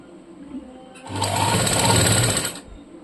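A sewing machine stitches a blouse neck piece in one continuous burst of rapid mechanical whirring lasting about a second and a half, close and loud, with quiet room tone before and after.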